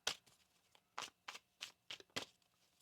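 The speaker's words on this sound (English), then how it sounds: "One more shuffle here." A deck of tarot cards is shuffled by hand in a quiet room, with about seven crisp riffling bursts coming in a rhythmic sequence.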